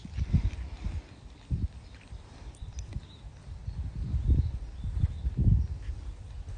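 Hooves of a thoroughbred gelding thud and clop over cross rails on soft ground, a series of irregular, moderately close footfalls with faint background ambience and no clear talking.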